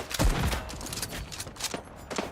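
Rifle gunshot scoring a headshot in the video game Gallipoli: one sharp, loud report near the start, followed by scattered fainter game noise with no speech.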